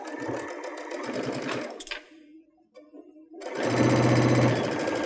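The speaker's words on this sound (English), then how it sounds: "So now I'll flip it around and stitch that second side." A Baby Lock sewing machine stitches a seam along an adjustable 5/8" seam guide with a fast, even whir close by, stops briefly while the fabric is turned, then resumes stitching.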